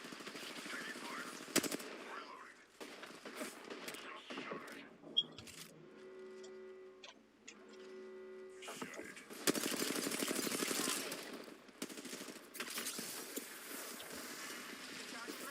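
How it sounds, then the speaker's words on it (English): Gunfire aimed at the player in a shooter video game, with bursts of rapid shots and scattered single cracks, mixed with game effects and a droning tone in the middle, while someone talks over it. "Why are they always shooting at me"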